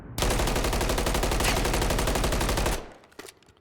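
Automatic gunfire in Call of Duty MW3, one sustained loud burst of rapid, evenly spaced shots lasting over two seconds, then cutting off into a few quiet clicks.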